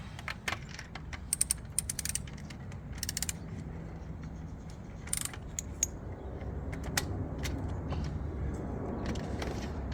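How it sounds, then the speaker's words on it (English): A ratchet clicks while turning Gen 3 Hemi spark plugs in a car engine bay, with bursts of rapid metallic clicking and clanks of tools at close range over a low rumble. "We're gonna put the joint on the other end of the ratchet for this side."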